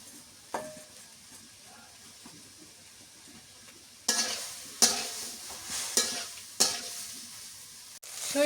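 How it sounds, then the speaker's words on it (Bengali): Beef cooks in a pan as green chillies and onion go in, with a steady soft sizzle broken by several sharp scraping stirs of a utensil against the pan, close by and without talk. "এবার হচ্ছে কাঁচামরিচ আর পেঁয়াজ দিয়ে দিই"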